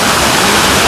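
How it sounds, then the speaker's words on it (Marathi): Steady roaring rush of a mountain waterfall on the Kedarnath trek, a dense broadband wash of falling water, loud and close, continuous with no break. "मित्रांनो धबधबा बघा इथला."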